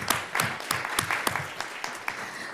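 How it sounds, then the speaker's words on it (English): Applause from an audience at a school district board public meeting: a steady crowd of clapping hands, fairly close, with sharper individual claps standing out and a few brief voices underneath. "let's give them a round of applause"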